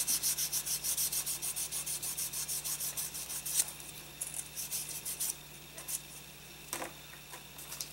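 A soft sanding sponge rubs a King Ghidorah model kit in quick, rhythmic strokes, first steady and close, then lighter and more scattered with occasional scratchy scrapes, no voices.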